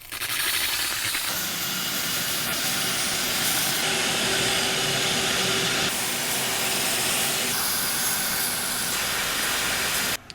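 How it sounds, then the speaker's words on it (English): A steam cleaner fitted with a steam extractor blasts a loud, continuous hiss up close, its roar shifting in intensity as the nozzle moves, with no voices over it. "I've got a steam extractor for the steamer."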